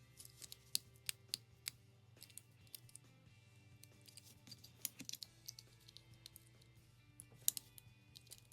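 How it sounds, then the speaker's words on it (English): Small snips cut a notch out of a plastic part for a 1968 Dodge Crew Cab rollback wrecker scale model, giving close, quiet, scattered clicks in irregular bursts against a faint background hum. "so if I cut some of this out, it should slide back"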